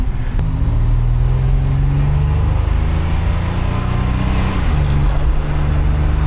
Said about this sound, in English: Yeah, we're going over bumps right now, no issues.